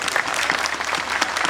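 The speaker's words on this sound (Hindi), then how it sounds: "तालियों के साथ हो जाए" Steady applause from an audience at a chowk inauguration function in Malad, Mumbai, an even wash of many hands clapping throughout, with no talk over it.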